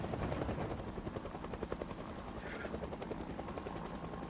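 A helicopter flies overhead in the video game Project Zomboid, its rotor a fast, steady thumping chop that stays loud and continuous throughout, with no voices.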